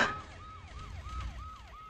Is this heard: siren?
yes